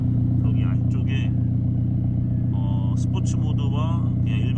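A Volvo S60 Polestar with a variable exhaust idles steadily at close range, its low rumbling note constant throughout while someone talks over it.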